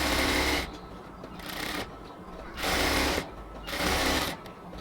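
A sewing machine stitches a luxury cotton kameez, running in loud, steady bursts that stop and restart several times, each run a fast mechanical whir with short pauses between.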